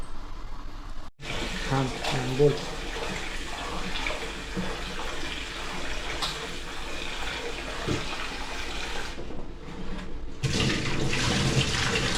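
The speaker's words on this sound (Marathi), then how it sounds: "तीन वेळा पाण्यामध्ये चांगला चिकन धुतलाय" Running water splashes steadily as raw chicken is washed by hand, with brief louder gushes and a soft voice in the background.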